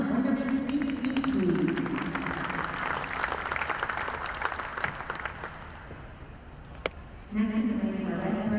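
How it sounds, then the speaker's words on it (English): An audience at the All-American Dairy Show applauds steadily for a grand champion Brown Swiss cow during the supreme champion parade, a sustained crowd clapping that swells and fades while an announcer talks over it. "Let's have a round of applause for Kar-Linn Wondrmnt, Reese-ET."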